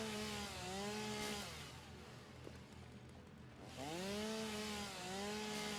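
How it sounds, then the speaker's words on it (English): A chainsaw cuts down trees in the factory-building video game Satisfactory, its engine revving up in rising and falling whines, first briefly, then again after a short lull, with a steady mechanical drone in between. "So using the chainsaw, it's an area of effect,"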